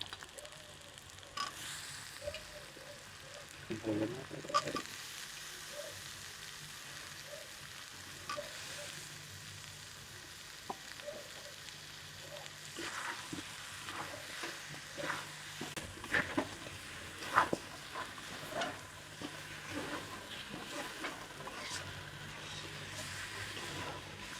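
Mutton kosha with cut potatoes and chui added sizzles and fries steadily in a pan, with intermittent stirring scrapes and clinks; no talking.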